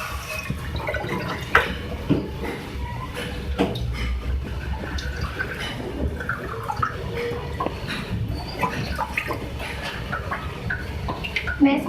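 One and a half cups of water are poured into a cooking pan to start a sugar syrup for shahi tukray. Close, uneven splashing and trickling run for several seconds, with a few small knocks from the pan and utensils.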